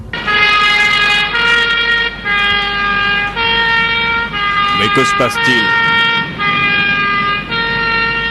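A loud two-tone ambulance siren wails in repeating blasts close by, while a person speaks briefly partway through.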